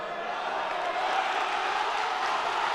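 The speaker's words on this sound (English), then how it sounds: "The Melrose crowd approves." A Melrose home crowd at a high school wrestling dual meet against Wakefield roars in a steady, loud, sustained wash of cheering that fills the gym without letup.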